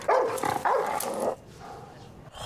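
A dog barks and yelps in an episode of The Last of Us Season 2, a few sharp, loud barks in quick succession that fade into quieter background sound.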